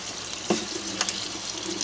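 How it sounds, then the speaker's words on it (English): Tap water runs steadily into a kitchen sink over rinsing verdolagas (purslane), a continuous splashing stream with small irregular spatters, close and fairly loud with no talking. "I'm going to let the water run over them."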